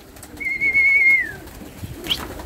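One pigeon at a loft gives a single drawn-out call, clear and fairly close, with a faint outdoor background and nothing else prominent.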